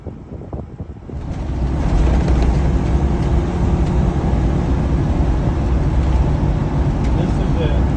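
Engine of a 2014 Winnebago Sunstar motorhome idling, a steady low rumble that steps up in level after a quiet first second and then holds even, with faint wind noise on the microphone.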